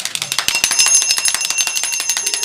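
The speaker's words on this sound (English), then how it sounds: "And the bell. And the bell." A bell rings rapidly and continuously, with dense, bright metallic strikes repeating in a fast, even rhythm throughout.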